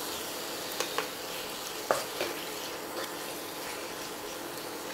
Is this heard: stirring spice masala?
yes